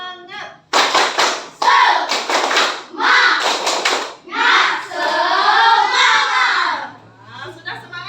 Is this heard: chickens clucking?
no